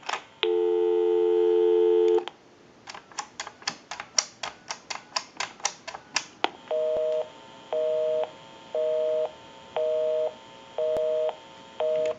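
A Western Electric Princess desk telephone line plays a steady tone, then a rapid run of dialing clicks, then a repeating busy signal of evenly spaced beeps, all loud and close with no talking.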